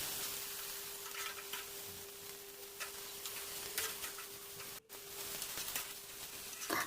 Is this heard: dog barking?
no